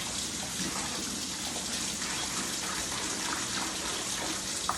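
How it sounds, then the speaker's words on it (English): Tap water pours steadily into a kitchen sink, a continuous hissing gush that stays at an even level throughout, with no one speaking. "I'm going to fill the other sink up."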